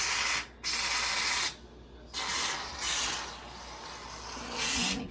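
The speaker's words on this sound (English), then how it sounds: "take your shaving cream and you're going to want to spread it all in your pan here." Shaving cream spraying from an aerosol can into a pan, several loud close hissing bursts broken by brief pauses, with faint handling noise; no one talks.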